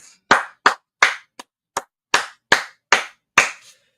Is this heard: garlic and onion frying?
no